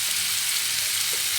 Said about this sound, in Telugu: చూడండి వేడుతున్నాయి బాగా.